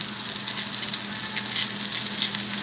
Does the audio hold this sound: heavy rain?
no